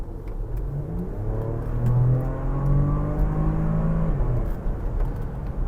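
A Porsche Macan S engine in Sport mode revs up and holds a deep, rising drone before easing off, close and loud with no voices over it.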